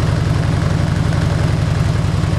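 A 2000 Harley Davidson Ultra Classic motorcycle engine with 70,900 miles runs with a deep, loud, steady throb close by, throttled with no talk.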